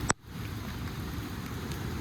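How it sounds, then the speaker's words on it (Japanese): Heavy rain pours steadily at a campsite during a spring blossom camping trip, a dense, constant hiss on a tent and the ground, with one brief sharp tap near the start; nobody speaks. "すごい雨だ。"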